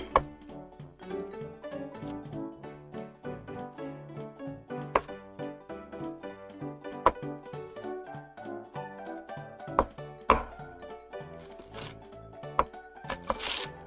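A kitchen knife chops shallots on a cutting board, a long run of close, sharp rhythmic knocks, mostly fast and fairly even with a few louder hits near the end, over soft background music.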